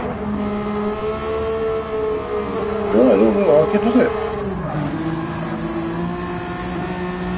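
Race car engine in Gran Turismo 7 during a BTCC replica championship race at Watkins, a steady moderate engine tone with a brief rising rev and a gear change, under people commentating.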